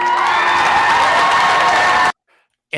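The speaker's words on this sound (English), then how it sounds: "And the amount of people clapping disturbs me" An audience at a public meeting claps together, dense and steady for about two seconds, then cuts off abruptly into near silence before a brief burst of sound returns.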